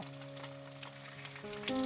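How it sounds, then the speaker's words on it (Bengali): Pabda fish frying in hot oil in a pan: a faint, steady sizzle with a low hum beneath it, growing slightly louder toward the end, no talking. "এবার আমি মাছগুলোকে তেলে এক এক করে ছেড়ে দেব"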